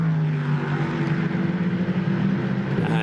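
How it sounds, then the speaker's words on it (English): Onboard a Prototype Cup race car at the Hockenheimring, the engine holds a loud, steady harmonic rumble close to the microphone throughout, with no talk. "you can hear the rumble of the engine"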